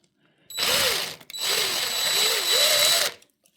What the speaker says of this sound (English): I have my little adapter on my input drill